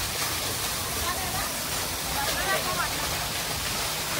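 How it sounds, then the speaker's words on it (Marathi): A waterfall near Hadshi, Pune roars loudly and continuously, a dense, close rush of falling water with no pauses. "पण खूप पाणी याचा आवाज जोरात आहे."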